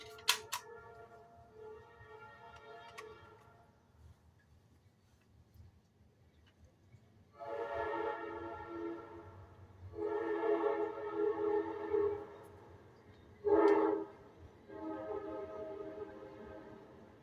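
A train whistle blows in several long harmonic blasts, separated by short pauses, with one brief louder burst near the end; faint clicking and background noise beneath.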